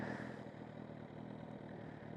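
A 2020 Suzuki Katana motorcycle with a short stubby exhaust idles in neutral, giving a steady, fairly quiet mechanical rumble with light clatter throughout.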